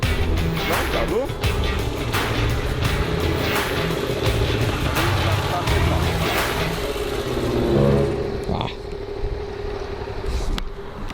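A Yamaha MT-07 motorcycle engine revs up and pulls steadily under continuous noise, with a few louder bursts near the end, recorded close as the motorcycle speeds up through city streets.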